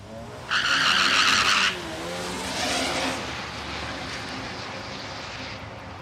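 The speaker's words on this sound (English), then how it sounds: "Watch the big Silverado." A big Chevrolet Silverado pickup drag racing at Palmyra Raceway in Australia gives a sharp burst of tire squeal followed by a rising engine roar, heard from a distance with no talk.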